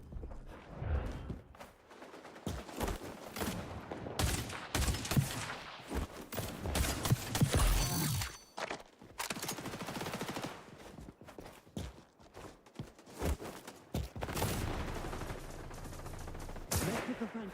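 Gunfire in the shooter game XDefiant comes in repeated bursts of rapid automatic shots, sharp and punchy, broken by short pauses, with other game sounds between volleys.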